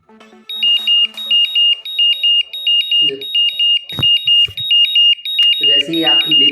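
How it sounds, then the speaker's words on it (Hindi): An IMax B6 battery charger beeps at the end of storage mode, a loud, close, rapid train of evenly spaced high electronic beep bursts repeating steadily, with brief handling clicks and a short voice near the end. "तो मैं आपको बीप दिखाना चाहता हूँ कि किस तरह की बीप ये सुनाती है।"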